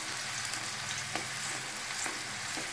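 Onions frying in oil over a medium flame and stirred gently, a continuous close sizzle with a few soft spatula knocks against the pan.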